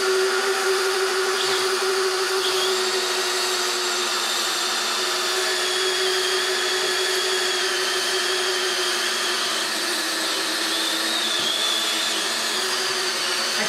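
A DeWalt fast charger runs with a steady, even electric whir and a constant tonal hum, holding the same level throughout with no talk.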